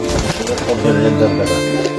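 Low, soft cooing of pigeons close by, a throaty hum over a busy background with a voice faintly present.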